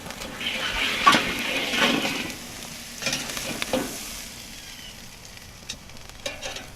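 A steak searing over a hot grill, sizzling and crackling with scraping bursts as the meat is turned and flipped, louder in the first seconds then settling into a steady fry.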